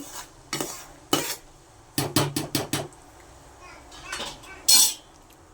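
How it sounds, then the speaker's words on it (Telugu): Melted jaggery foaming in a pan as a spoon stirs it, a series of sharp scraping strokes and clinks against the metal, some quick and clustered, over a soft bubbling background. "ఇలా నురగంతా వస్తుంది కదా, ఇలా మొత్తం అయితే కలుపుకుంటూ"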